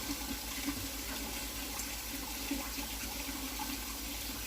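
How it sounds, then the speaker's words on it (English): Liquid is slowly poured into a Dutch oven for baked mac and cheese, a soft steady watery trickle with a faint rhythmic low hum, quiet and continuous with no talking. "we're going to slowly pour this in here."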